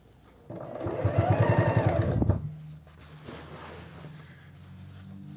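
A sewing machine stitches men's jeans in a fast, even burst of needle strokes lasting about two seconds, close and loud, then stops and leaves quiet room tone.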